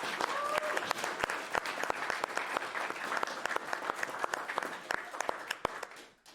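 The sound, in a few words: applause for marathon organizers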